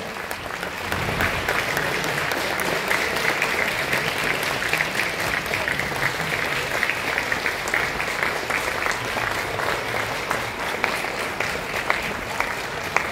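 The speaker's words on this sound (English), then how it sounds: "Can I ask everybody to please give our keynote speaker a massive round of applause?" Large audience giving a keynote speaker a long round of applause on his arrival at a venue in Brisbane, dense sustained clapping that carries on loudly throughout, with voices faintly mixed in.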